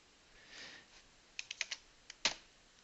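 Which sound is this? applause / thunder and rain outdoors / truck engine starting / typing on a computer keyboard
typing on a computer keyboard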